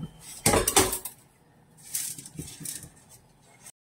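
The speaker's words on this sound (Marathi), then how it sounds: "ही चाळणीतली चाळलेली मोठी ज्वारी दाणे आपल्याला ह्याच्यामध्ये टाकून घ्यायचे आहे" Sorghum grains poured into a hot wok for popping give a hard rattling, clinking rush, loudest in one early burst and then in lighter scattered pours, close up with no clear talking.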